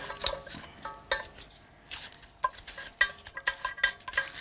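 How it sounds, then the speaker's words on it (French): Sharp, scattered knife strokes slicing small onions on a board in a home kitchen, with a few clinks of utensils; brief irregular cuts, close and moderately quiet, with pauses between bursts and no talk. "Alors j'émince les petits oignons."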